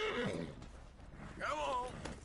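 Horse neighing in a PS4 video game, a short whinny near the start and another rising whinny midway, heard close under game voices and ambient sound.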